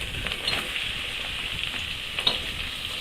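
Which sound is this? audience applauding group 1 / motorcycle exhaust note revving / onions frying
onions frying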